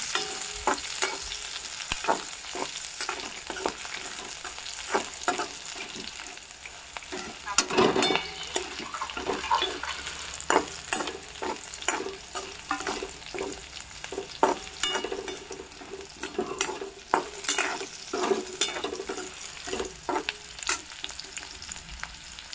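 Green chillies frying with curry leaves in hot oil in a pan, a steady crackling sizzle broken by repeated scrapes and clatters of stirring, close and moderately loud with no talking.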